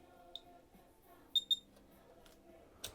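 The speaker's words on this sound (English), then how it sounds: "the timer will now start working out my half stops" A darkroom enlarger timer gives faint, short electronic beeps counting half stops, with a pair of quick bleeps in the middle and a brief one near the end, in a quiet room.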